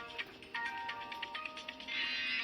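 A phone ringtone plays nearby as a bright, repeating electronic melody with pulsing tones that swell louder toward the end, with no speech over it.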